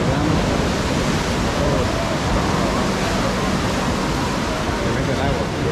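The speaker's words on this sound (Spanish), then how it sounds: "Viene fuerte la marea." Strong surf rolls in at Playa Las Tunas in Conchagua, La Unión, as a steady, loud wash of breaking ocean waves with wind noise and no clear pauses.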